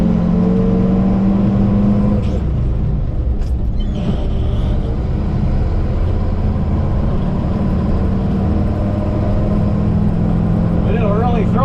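A car engine drones loudly and continuously with a non-synchronized gearbox, pitch shifting through gear changes with a double clutch, heard close from inside the car.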